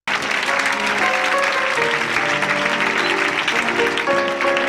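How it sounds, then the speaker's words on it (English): Late-night talk show studio audience clapping loudly and continuously, a thick, close wash of hands that sustains evenly with some tonal music or sound running underneath it. "The audience clapped"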